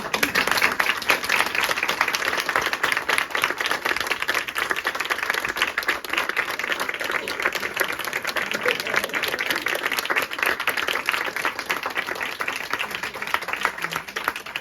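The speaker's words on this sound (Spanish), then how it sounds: "un aplauso, por favor" Audience applause following a book talk, steady dense clapping from a seated crowd lasting throughout, fairly close and even in level.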